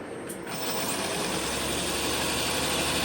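A CP3 high-pressure fuel pump, a 12.6mm stroker version, runs steadily on a test bench at about 750 RPM. It makes a continuous, even mechanical drone with a faint whine above it, close and alone with no talking.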